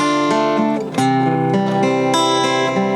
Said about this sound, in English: The strumming of the guitar,